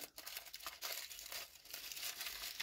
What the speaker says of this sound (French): maintenant que j'ai froissé ça